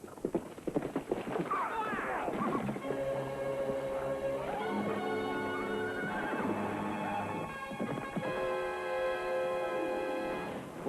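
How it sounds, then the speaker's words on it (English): A trained horse whinnies loudly and at length as it falls on cue and gets up, with shuffling and thudding movement around it, close and prominent. "Glenn's favorite trained horse, Rocket, will fall on cue, then quickly get to his feet again"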